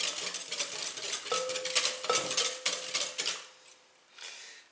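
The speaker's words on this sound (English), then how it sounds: "Going to whisk that in." Salt being whisked into a brioche mixture in a bowl, with quick scraping and clinking of the whisk against the bowl in a steady rhythm. The sound is close and moderately loud, then tapers off near the end.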